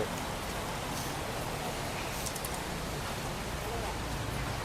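Steady rain falls throughout as a dense, even hiss at a temple gathering, with no clear speech over it.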